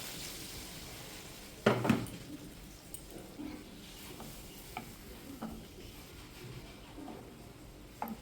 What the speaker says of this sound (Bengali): নেড়ে চেড়ে মিলিয়ে দিচ্ছি